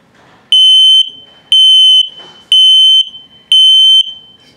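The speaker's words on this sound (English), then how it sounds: "Okay, low battery alarm." A 2022 Flagstaff MAC 206LTD RV's gas detector sounds its low battery alarm: four loud, shrill electronic beeps, each about half a second long, repeating once per second with quiet gaps between.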